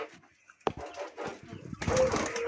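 Australian doves kept in a home aviary give soft cooing calls at close range amid light rustling, with a brief sharp knock and some background noise.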